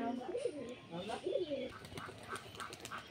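Pigeons in a small home loft coo in soft, low warbling phrases, fairly quiet and close, followed by faint scattered rustles and chirps.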